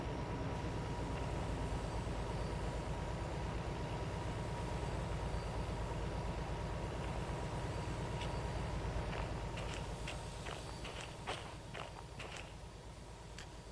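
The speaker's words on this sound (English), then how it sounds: "I feel like my train is the only one that's braking." A train braking in a train simulator video game: a steady low rumble of rolling wheels with faint squeals and clanks near the end, no talk.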